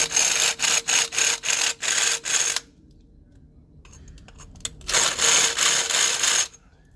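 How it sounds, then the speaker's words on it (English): Power drill deburring the inside of a freshly cut conduit, two close rasping bursts of grinding with rapid pulsing scrapes, separated by a quiet pause with faint handling clicks. "So I just take my drill."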